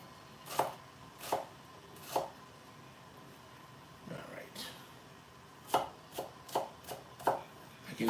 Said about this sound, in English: So I'm going to cut them up and I'll show you this as soon as I get this all diced